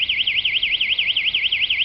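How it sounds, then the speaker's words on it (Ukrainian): Building security alarm on a residential street in Lviv, set off at night by a shouting group, a loud piercing electronic siren warbling rapidly up and down in a steady repeating cycle, close and continuous. "Приходила ввечері гучна компанія, ну і відповідно запустила сигналізацію просто своїми криками."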